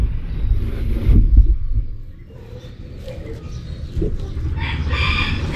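Chickens and a rooster on a poultry farm, with loud close clucking and a rooster crowing, followed by fainter rustling and a burst of higher cackling toward the end.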